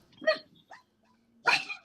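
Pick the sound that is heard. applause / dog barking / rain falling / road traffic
dog barking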